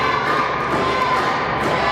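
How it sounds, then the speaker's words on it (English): A wrestling arena crowd cheers and roars in a dense, continuous wash of noise, loud and close with no break. "The crowd firmly in the corner of Billy Litt and Ricky Shane here."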